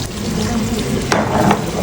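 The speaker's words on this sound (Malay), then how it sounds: "Masukkan sedikit air." Water splashes into a hot pan and sizzles steadily, with a brief louder hiss partway through as the liquid hits the heat.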